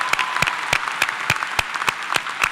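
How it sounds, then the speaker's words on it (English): Clapping at a college commencement ceremony in a slow, regular rhythm, about nine distinct claps standing out over a softer background of crowd applause. "How about a round of applause for all the parents here today"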